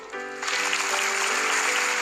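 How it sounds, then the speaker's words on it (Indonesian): Applause from a church congregation in Indonesia rises sharply and keeps up as a dense, steady wash of clapping, with faint tonal music beneath. "yang percaya kasih tepuk tangan"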